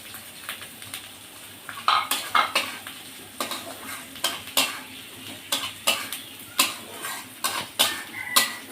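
Fried potatoes and whole garlic cloves are stirred in an oily pan for a Bengali fish kofta dish, with a steady sizzle under repeated scraping and clinking of a spatula against the metal pan, close and fairly loud.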